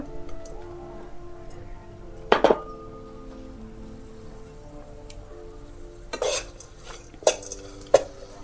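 Crushed peanuts are stirred into a wild vegetable cooking in a pan, with a few separate metallic clinks and scrapes of the spoon against the pan over a low quiet background.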